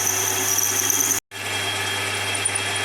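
A center drill bores into a metal end cap for a Rover P4 gear change part, a loud continuous machine whine with a steady hum, briefly cut by a short gap before resuming.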